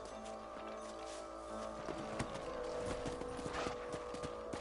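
Horse hooves clip-clop in the Red Dead video game, a quiet, irregular patter of hoofbeats growing a little busier partway through, set against a faint, steady musical hum.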